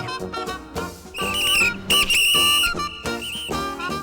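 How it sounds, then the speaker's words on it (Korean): Shrill whistle blasts, several long and short bursts in a musical pattern with a steady background tone underneath. "100m 밖에서 호루라기 소리가 들려왔고"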